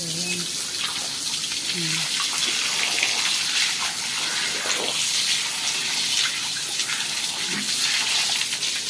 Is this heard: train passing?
no